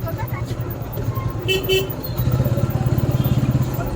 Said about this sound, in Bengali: তোমরা তো দেখতেই পেলে যে কীরকম লেভেলের এখানে জাম